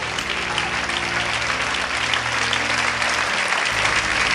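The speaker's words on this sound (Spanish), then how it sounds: "Dale un aplauso al Señor con todo tu corazón" A church congregation applauding steadily, dense sustained clapping filling the room at a constant loud level with no breaks.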